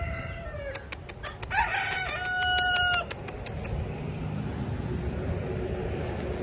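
Chickens cluck and a rooster crows nearby, a burst of squawking and clattering in the first half before settling into steady outdoor background noise.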